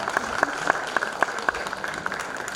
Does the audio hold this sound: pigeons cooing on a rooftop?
no